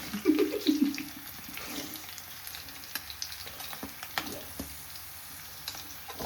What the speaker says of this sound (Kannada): ಸ್ಪೈಸಸ್ನ ಹಾಕಿ ಎಲ್ಲ ಫ್ರೈ ಮಾಡ್ಕೊಂಡು